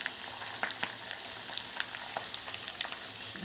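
Peanuts and poppy seeds fry in a pan with a quiet, continuous sizzle broken by scattered sharp pops and crackles, heard up close with no voices.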